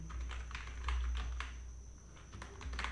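Typing on a computer keyboard during a CSS coding session, a steady run of light, quick key clicks close by, continuing without pause for a few seconds over a faint low hum.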